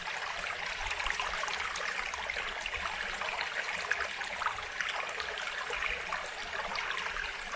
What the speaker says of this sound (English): only the sound of the water, you feel like you should close your eyes